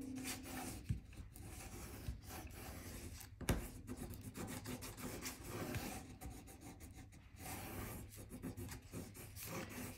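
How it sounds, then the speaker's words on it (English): A folded paper envelope flap glued onto cardstock is burnished, giving faint, close, continuous rubbing and scratchy rasping strokes in an uneven rhythm, with no voices. "And then on the flap, fold it over and burnish."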